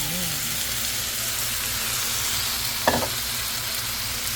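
Pork ribs fry in a hot pan with a steady, loud, broadband sizzle throughout, broken by a brief clatter near the end; a voice is faintly present at the start.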